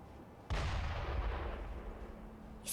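A single heavy gunshot booms up close in Sekiro, fired at the player, its low rumble trailing off over a couple of seconds with no talk.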